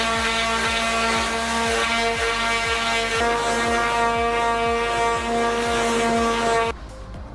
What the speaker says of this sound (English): All right, so I sanded that a bunch.